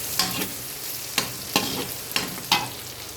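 Garlic fries in oil alongside meat for pinakbet, a continuous close sizzle punctuated by five or six sharp spatula scrapes and taps against the pan at irregular intervals, with no voices.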